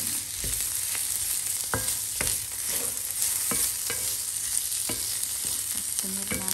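Garlic and mushroom are stir-fried in a pan, giving a constant close sizzle broken by repeated scraping and clacking stirs at an irregular rhythm.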